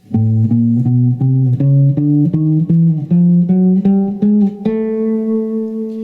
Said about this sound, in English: here is a 1 octave achromatic scale